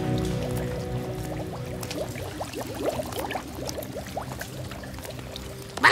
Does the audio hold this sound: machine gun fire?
no